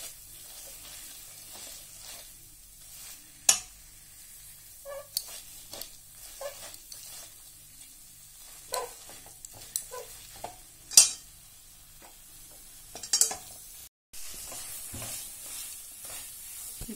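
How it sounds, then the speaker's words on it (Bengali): Grated coconut cooked down with jaggery in a pan for narkel naru gives a faint, low frying hiss. Sharp scraping and clinking strokes of a spatula break in at irregular intervals, close by with no talking. "নারকেলটা ভালো ভাজা ভাজা হয়ে যাবে"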